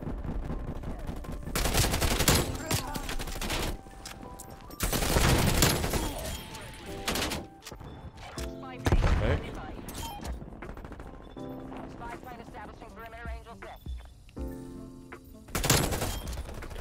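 Krig 6 assault rifle gunfire in Call of Duty: Black Ops Cold War, loud close bursts of automatic fire recurring across the clip with pauses between, mixed with other game sounds and a voice talking at times.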